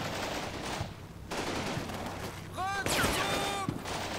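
Scattered gunfire in a military training-campaign video game, soldiers moving on an objective with foxholes; a few distant cracks and bursts over steady ambient noise, with rising whistling tones near the end.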